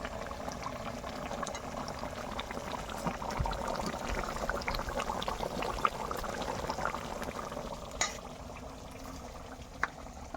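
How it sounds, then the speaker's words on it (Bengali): Bata fish curry gravy bubbles at a rolling boil in a pan, a dense continuous burble with small pops and occasional stirring clinks, close and steady, with no talking. "ঝোলটা ফুটে উঠেছে আর কিছু সময় নাড়াচাড়া দিয়ে নামিয়ে নিলেই হয়ে যাবে আমার বাটা মাছের ঝাল"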